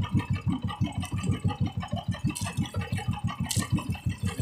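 A fishing boat's engine idling at sea, a steady low chugging pulse of regular thumps about five per second, close and continuous, with a couple of brief higher clatters on top and no talk.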